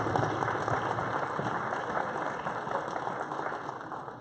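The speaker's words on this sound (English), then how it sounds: "Let's give these students another round of applause." Steady applause from a school audience for students at a CPR kit presentation, dense even clapping filling the room without a break.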